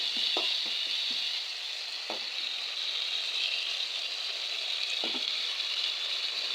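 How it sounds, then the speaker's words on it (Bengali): Spice paste with salt fries in a pan for a fish curry, a steady, fairly quiet bright sizzle running throughout, with a few soft taps and scrapes of a spoon stirring now and then. "মশলাটা ভালো করে কষাই নিব"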